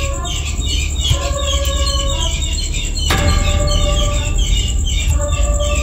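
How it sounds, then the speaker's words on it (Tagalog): Repeated bright chirps and squawks from several birds at a church, ringing out steadily over a dense, loud background rumble, with a sharp transient knock midway. "tila may mga ibon o huni ng ibon na sumasabay sa aming audio"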